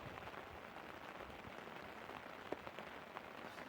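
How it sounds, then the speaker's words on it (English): Heavy rain pouring down on the riverbank of the Thames during a fishing trip, a dense, even patter filling the whole stretch, with a few faint nearer drips standing out. "It's absolutely pouring down now."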